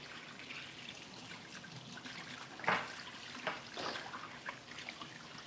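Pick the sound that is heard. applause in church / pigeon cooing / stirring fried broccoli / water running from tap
water running from tap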